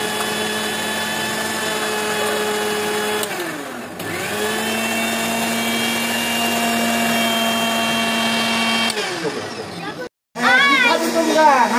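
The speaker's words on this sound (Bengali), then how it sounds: "এখন এই যে পুদিনা পাতা বোরহানি মশলার সাথে একটু ব্লেন্ড করে দিচ্ছি" A kitchen blender whirs steadily as it purées mint leaves with borhani spices, its loud motor dipping briefly in pitch, then running on before cutting off; a short burst of speech follows.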